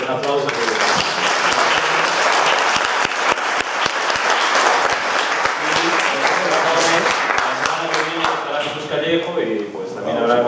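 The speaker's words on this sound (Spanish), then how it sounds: "despedimos a nuestro amigo Pablo con un buen aplauso" An audience at a talk gives a warm round of applause, dense clapping continuing for several seconds and tapering toward the end, with some voices audible over it.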